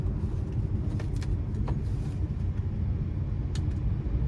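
A 2018 Buick Encore Sport Touring with a 1.4-liter turbocharged four-cylinder and about 82,000 miles accelerates, its engine a steady low rumble inside the cabin with faint ticks over the drone.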